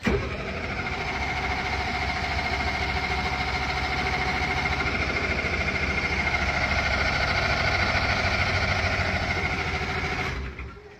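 A broken military generator engine cranks over continuously for about ten seconds, a loud, steady, rhythmic mechanical churning that never catches before cutting off.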